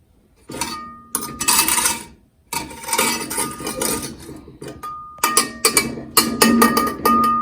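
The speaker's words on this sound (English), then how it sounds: "Now time to use the whisk." Metal whisk clattering and clinking against a bowl while mixing sugar for homemade taffy, in bursts of fast, busy strokes with short pauses between them, fairly close and loud, with no talking.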